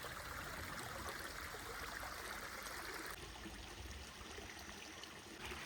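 A small mountain stream at Kuttikkanam in Idukki runs down over rocks near a bathing spot. Its water rushes and trickles in a steady, close wash that shifts slightly partway through, with no voices.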